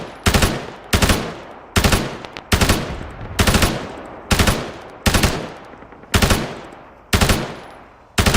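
Loud, close machine gun fire in the Arma 3 military game, delivered as about nine sharp bursts spaced roughly a second apart, each with a reverberant tail, with no talk over it.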